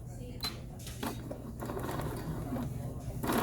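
A sewing machine stitching a cuff of a garment, with short bursts of needle clatter starting and stopping in quick runs, fairly close, under a quiet room hum.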